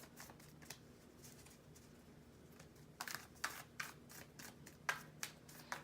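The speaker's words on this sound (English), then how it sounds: "let's go on and shuffle these cards for you guys" Tarot cards being shuffled in quiet, with soft riffling at first and then a quicker series of crisp flicks and snaps.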